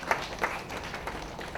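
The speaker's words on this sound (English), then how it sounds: "Can we have a huge round of applause for Mr. Kinjal Shah, who's the CEO of Crossword Bookstore?" An audience at a book launch claps for the CEO of Crossword Bookstore, producing a steady, moderately loud patter of many hands with a few sharper claps standing out, and no voices over it.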